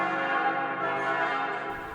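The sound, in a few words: church bells of the Church of the Dormition ringing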